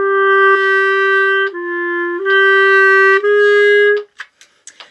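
Clarinet section sustaining tones in a wah-wah pattern, each note swelling too early, several held phrases with brief breaks, then short softer fragments at the end.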